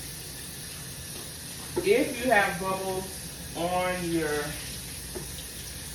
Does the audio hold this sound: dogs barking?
no